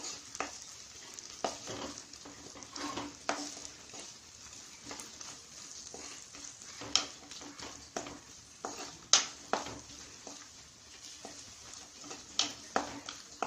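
Onions and curry leaves sautéing in coconut oil for a Kerala crab curry, a steady soft sizzle with repeated scraping stirs of a spoon against the pan, close and fairly quiet, no talk.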